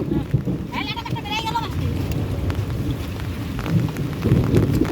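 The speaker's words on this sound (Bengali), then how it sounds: "আর এদিকে অবনত বৃষ্টি চলছে" Steady rain hisses and patters throughout, loud and close, falling outdoors during fishing, with a brief voice at the start and low rumbling underneath.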